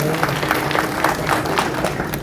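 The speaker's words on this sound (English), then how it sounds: "A big round of applause for that" An audience at a technology launch event in Hyderabad gives a round of applause, a steady wash of many hands clapping at moderate volume throughout, with faint talk underneath.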